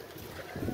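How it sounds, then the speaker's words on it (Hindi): Wind gusting outdoors in cold, snow-covered terrain, a steady broadband rush that swells toward the end, buffeting a nearby microphone. "हवा चल रही है"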